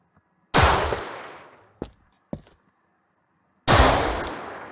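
Enemy gunfire from a shotgun or rifle in a video game: two loud, close blasts about three seconds apart, each with a long decaying tail, separated by two shorter, quieter shots.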